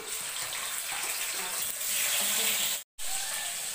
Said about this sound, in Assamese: মাছ ভাজি আছোঁ মই।